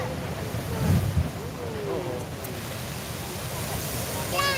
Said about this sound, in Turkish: Köpüre köpüre geliyor.